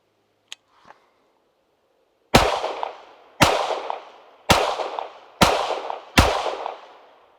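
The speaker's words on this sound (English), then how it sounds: "I came up and tried to fire 5 shots into the body, and I was maintaining a relatively fast shot tempo" BHSS Enhanced Hi Power pistol fired at an outdoor range from 15 yards: five loud, sharp shots in a quick, even tempo, each ringing out with a decaying echo, preceded by a couple of faint clicks.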